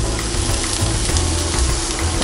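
Red capsicum frying with ginger garlic paste in a hot pan, a continuous crackling sizzle with faint stirring scrapes, close and steady without pause.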